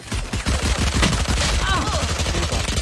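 Rapid bursts of video game gunfire crackle almost continuously, loud and dense like automatic weapons in a firefight, with faint voices underneath.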